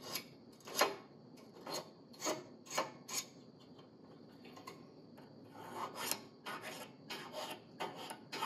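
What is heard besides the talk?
filing an engine piston ring to set the gap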